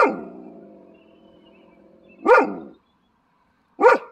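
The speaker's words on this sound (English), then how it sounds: "Sometimes embarrassing that the dog will just bark." A dog barks at another dog outdoors, two loud, sharp barks well apart and close to the microphone, following a fading whiny tone at the start.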